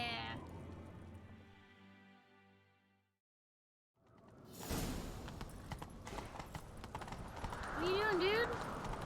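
Horse hooves clip-clopping in The Witcher 3, with a horse neighing, in game sound heard under talking and background game audio after a short quiet gap.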